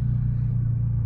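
A Chevrolet Camaro with custom paint and a carbon fiber hood drives past, a steady loud low engine rumble close by with no voices.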